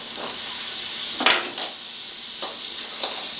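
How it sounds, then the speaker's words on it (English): Breakfast quesadilla crisping in butter in a frying pan, a steady bright sizzle with a few sharp clinks and scrapes of a utensil against the pan, no talk. "I'm going to add a little more butter in the pan, because I want to crisp it up a little bit"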